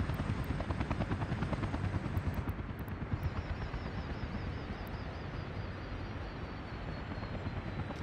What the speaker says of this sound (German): Dieser Heli.